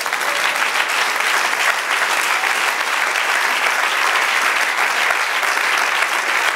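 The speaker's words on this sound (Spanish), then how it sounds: "Den un aplauso al Señor." A church congregation applauds steadily during a sermon, a dense wash of clapping hands from many people that holds throughout.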